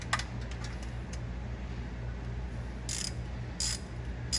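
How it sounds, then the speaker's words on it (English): Ratchet fitted with a 7/16 socket turning an alternator bolt on a 1973 Mustang convertible, giving quiet, close clicking in a few short bursts over a low steady hum. "This is a 7/16 socket, and because of how I have the alternator just kind of hanging here, it is in a good position to use a socket like this"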